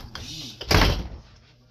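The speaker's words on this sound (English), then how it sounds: "let me shut my door so that way the news isn't as loud" A room door is shut with one soft, muffled thud that rises and fades within about half a second, heard close by in a quiet indoor space with a faint background hum.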